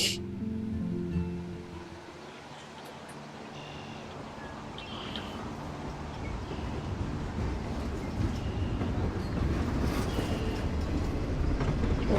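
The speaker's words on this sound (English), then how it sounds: "Train." A train rumbles past in the video game Life Is Strange, a loud, rushing roar that builds steadily and stays strong to the end, with faint rhythmic rail clatter.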